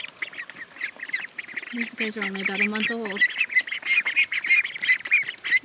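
Month-old ducklings squawk and quack in a small farm cage, a burst of loud close calls in the middle over steady chirping peeps, with someone talking throughout.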